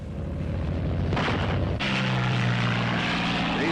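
P-47 Thunderbolt fighter planes take off, their propeller engines droning loudly, with a swelling roar midway and then a steady, strong engine hum near at hand; no speech.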